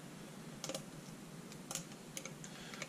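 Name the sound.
picking a lock with lock picks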